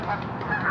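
Geese honk along the banks of the Ottawa River, a short, close, nasal honk that is loud and clear on its own.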